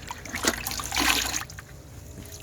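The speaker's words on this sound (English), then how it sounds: "I think I'll just wash it down." Water splashes and trickles over the body of a Rover 45 during rust preparation, coming in two brief close pours before fading to a quiet drip.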